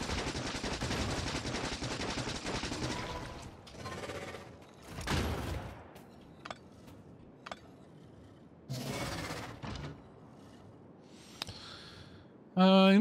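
Turrets fire in Factorio Space Age: long rattling bursts of rapid gunfire, then scattered sharp shots and shorter volleys, with a loud burst at the end.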